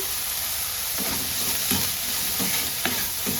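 Vegetables sizzle and hiss steadily in a hot pan while being stir-fried for a white sauce pasta, with periodic scraping stirs every second or so, close and fairly loud, no talk.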